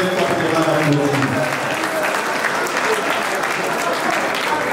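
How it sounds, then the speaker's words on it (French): An audience applauds a newly reappointed minister at a political gathering of the Grande Province Orientale, a sustained dense clapping crowd, fairly loud and steady for the full stretch with a few voices mixed in. "nous pouvons très fortement l'applaudir"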